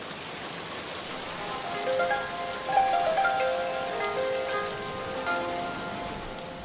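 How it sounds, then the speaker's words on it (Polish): Rain falling during an August outdoor pilgrimage ceremony at Kalwaria Pacławska, a dense, steady patter of drops close by, with faint tonal sounds drifting underneath and no speech. "sierpniowym odpustom nie odpuszcza deszczowa pogoda. Deszcz jakby celowo wpisał się w część programu tych uroczystości"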